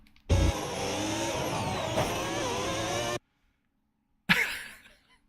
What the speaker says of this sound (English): He literally slams on the brakes. You can actually hear it.